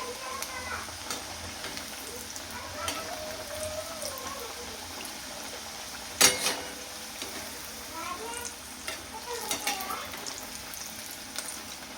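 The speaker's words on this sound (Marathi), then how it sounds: "एका साईडने आपल्याला छान तळून घ्यायचं, नंतर पलटी करायची." Chapati pieces shallow-frying on one side in hot oil, a continuous bubbling sizzle with one sharp clatter midway and a voice talking over it.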